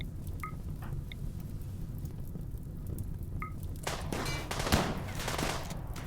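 Gunfire hitting a spaceship in a video game, a steady crackling patter of rapid impacts over a low rumbling hum, moderately quiet, with a few sharper bursts toward the end.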